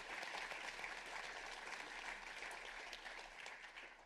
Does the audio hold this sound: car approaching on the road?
no